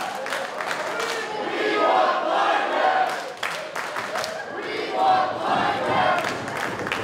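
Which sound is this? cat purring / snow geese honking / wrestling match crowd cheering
wrestling match crowd cheering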